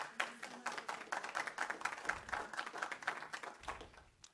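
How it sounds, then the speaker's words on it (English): Applause breaks out at a city council meeting: many hands clapping in a steady, fairly faint patter that lasts throughout, slightly distant, with no talk over it. "Clapping permitted."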